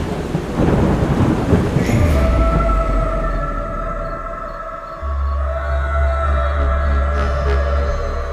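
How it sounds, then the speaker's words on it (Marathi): Heavy rain pours in a loud, dense roar while deep thunder rumbles roll underneath, swelling again partway through. "ह्यो पाऊस का थांबना"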